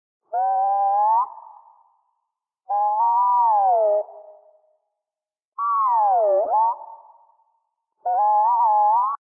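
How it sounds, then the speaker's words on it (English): Four separate warbling, whistly tones, each a bending chirp with a short fading tail, spaced apart with silence between them; a chirping orb effect made from mouth sounds. "the sound of the lovely chirping orb at the end"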